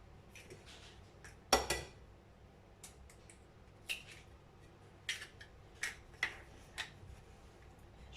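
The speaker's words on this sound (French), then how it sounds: "نهرس البيض" Eggs are beaten in a bowl with a utensil for a Nutella pancake and family-size cake batter. A run of sharp, separate clinks and taps sounds against the bowl, close up and spaced out, and no one talks.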